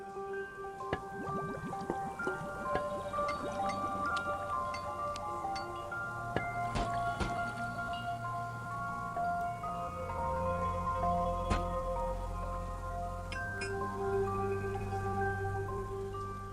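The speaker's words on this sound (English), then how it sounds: "Do you hear the substance inside the device bubbling gently?" Gentle liquid bubbling and dripping with soft plops and squishy pops, over a low steady hum, continuing unhurried for a long stretch.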